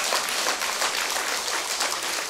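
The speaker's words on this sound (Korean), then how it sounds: "내 말이 맞다면 박수를 한번 쳐봐." Congregation clapping during a Buddhist dharma talk at a temple hall, a brief burst of many hands applauding evenly at moderate loudness.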